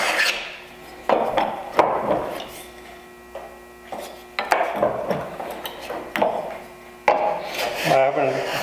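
Hand tool rasping and rubbing along the edges of short wooden dividers for a hand tool cabinet, in uneven close strokes with brief pauses and a faint hum behind them.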